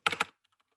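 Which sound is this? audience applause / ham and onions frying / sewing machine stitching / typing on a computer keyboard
typing on a computer keyboard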